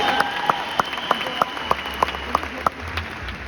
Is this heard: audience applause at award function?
yes